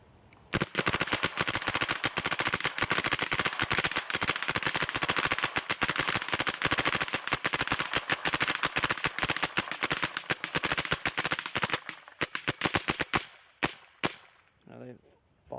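Planet Eclipse Ego 9 paintball marker firing a long, rapid string of sharp, close pops, dense and steady for about eleven seconds before thinning out into a few scattered shots and stopping.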